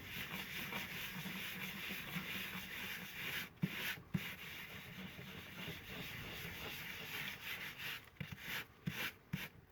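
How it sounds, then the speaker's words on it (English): Steady abrasive rubbing of sandpaper worked flat across magazine paper, a continuous dry scratchy hiss with brief pauses and quicker strokes near the end, close and moderately quiet. "So again, sanding flat."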